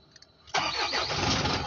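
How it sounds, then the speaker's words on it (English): An Isuzu N Series truck engine starts after a few faint clicks: a sudden surge into a loud cranking catch that settles quickly into a steady, close idle. "If we start it up"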